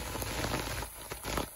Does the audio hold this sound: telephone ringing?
no